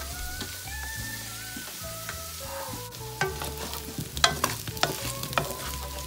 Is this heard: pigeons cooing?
no